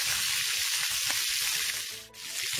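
Lobster frying in a pan with garlic, pepper and pimento seeds gives off a loud, steady, close sizzle, with no voices.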